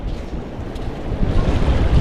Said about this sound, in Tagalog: Ito yung dagat. Mga kabansot, ito yung dagat.